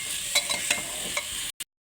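Spices and chopped green chili sizzle in a pan as they are stirred, a close, hissing fry with a few soft scrapes that cuts off abruptly after about a second and a half.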